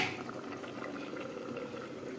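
Vegetables simmering in water in a covered pot on high flame, a continuous bubbling, burbling wash of boiling liquid, close and even throughout, no voices.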